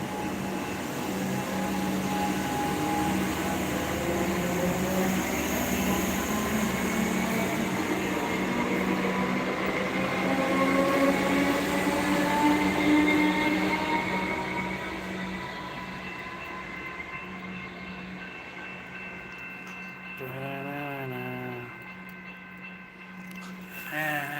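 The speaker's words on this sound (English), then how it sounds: "I'm at the fucking station waiting for a train, bro." Train at a railway station, heard up close and loud, with a long rolling rumble and rising, whining motor tones as it moves through, easing off toward the end, and a brief voice near the close.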